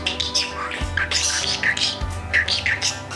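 Budgie (parakeet) calling close by, with a run of bright squawks and rapid chirps, loud and continuous over a low background hum.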